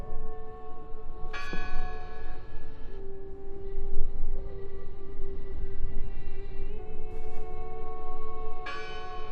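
Bells ring out in Draugen, a resonant bell tolling in clear, separate strikes spaced a few seconds apart, each ringing tone lingering over a steady wash of wind and ambient noise.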